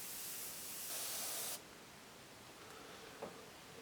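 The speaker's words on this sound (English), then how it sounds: "you can also go along like I'm doing now and just put little dark bits in with the airbrush" Airbrush spraying Indian ink onto a painting, a soft steady hiss that swells briefly and then cuts off, leaving a faint quiet background with a small tap near the end.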